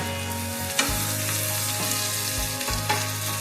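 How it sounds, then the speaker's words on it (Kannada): Fenugreek leaves fry in hot oil in a pan with a steady, close sizzle and a few soft stirring scrapes, no voices. "ಮೆಂತ್ಯ ಸೊಪ್ಪು ಫ್ರೈ ಆಗ್ತಿದೆ"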